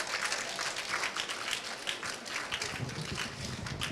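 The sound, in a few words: audience applause for auction winner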